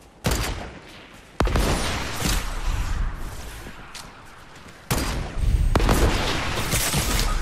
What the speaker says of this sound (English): Watch out, here comes a rocket. So they shoot a rocket, they try to snipe.